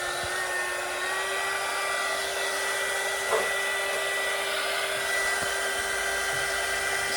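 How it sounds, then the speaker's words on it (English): A heat gun blows steadily on a clay bowl, a constant loud whirring hiss with a fixed whine that carries on unbroken throughout. "I wanted to dry it off a little more using my heat gun."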